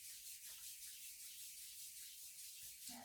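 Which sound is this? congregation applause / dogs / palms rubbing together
palms rubbing together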